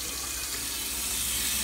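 Hot water pours steadily from a kitchen tap into a container for microwave ramen, a continuous close splashing hiss with no talking over it.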